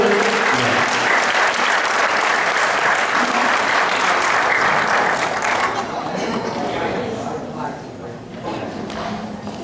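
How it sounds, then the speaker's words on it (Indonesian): A seminar audience at a hotel halal bihalal gathering bursts into sustained applause, dense and loud for several seconds before thinning and fading as a voice begins to speak. "Tepuk tangan dulu"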